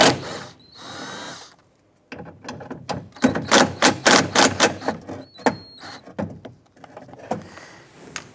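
A power drill works the bolts loose on the rear power window regulator of a 2007-2012 Nissan, with short whirring bursts and a quick run of close, loud spins, separated by pauses and light clanks.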